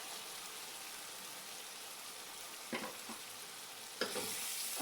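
Steady loud sizzling of masala frying in a hot cooking pot for kofta curry, with a couple of brief splashy bursts partway through as water is added.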